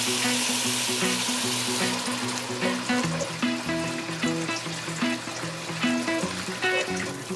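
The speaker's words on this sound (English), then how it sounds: "Now I'm going to add some water to create a thick slurry." Water hits a hot pan of toasting geera (cumin seeds) and erupts into a loud, steady crackling sizzle that bubbles continuously up close, with no talking.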